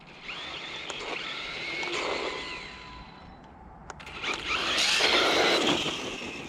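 A Hosim RC car takes off and drives with a whining electric motor that rises in two surges, with a soft-start feel, and stays fairly close.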